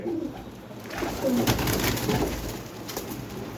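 Fancy pigeons, including a black roller type with light eyes, coo softly nearby in short murmuring phrases amid faint market background noise and a few brief bumps.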